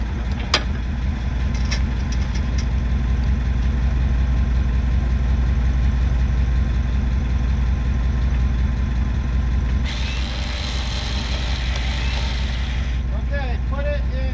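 A truck stuck on a snowmobile trail sits idling with a steady low rumble. Voices talk over the engine, and a brief brighter hiss or scraping noise joins in partway through.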